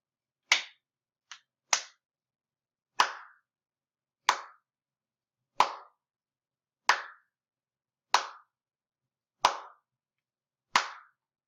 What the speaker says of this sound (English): I clapped 9 times.